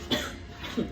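Two sharp, cough-like exhales are forced out during a breath-of-fire breathing exercise, spaced under a second apart and fairly close.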